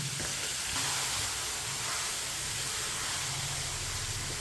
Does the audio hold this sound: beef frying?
yes